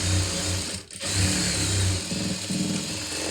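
Sewing machine stitching a hook strip onto a blouse, running in a steady continuous whir with a brief pause near the start, close and fairly loud.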